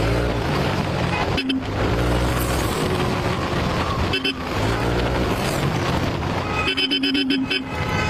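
Vehicle horns honk amid busy road traffic in the Philippines, loud repeated toots over a constant nearby engine and wind roar, heard from a motorcycle with a GoPro.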